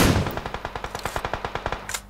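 A teammate's automatic weapon in a shooter video game fires a rapid burst of about fifteen evenly spaced shots. The burst is loud and close, with no voices over it.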